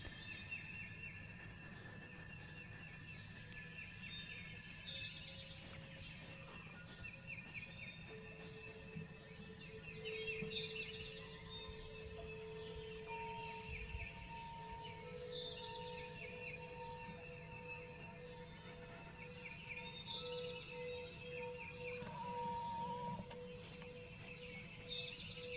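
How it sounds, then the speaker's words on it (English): Birds singing outdoors in the morning, a faint, fairly distant mix of chirps, whistles and trills repeating throughout, with no talking. "And let's just sit and listen to the birds for a while."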